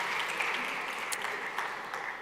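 A conference audience on a main stage applauds jury members as they stand, a dense patter of clapping at moderate distance that carries on steadily before tapering.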